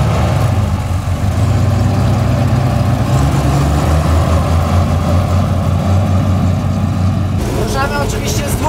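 A ZIL-157 truck's 5.5-litre carburetted side-valve engine idles steadily with a deep, low rumble, continuous throughout, and a brief burst of speech near the end.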